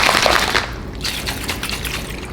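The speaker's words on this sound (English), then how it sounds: "water's gonna come out of both of them" Water splashes and sprays from open Munchkin and Think Baby straw cups as they are shaken vigorously, a close, hissy burst of liquid in rhythmic pulses.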